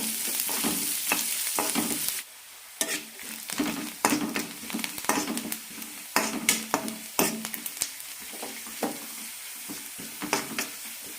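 Onions sauté in a pan for a Kerala-style jackfruit curry, making a bright, continuous frying sizzle punctuated by rapid, irregular clacks and scrapes of a stirring spoon, close and fairly loud, with no speech.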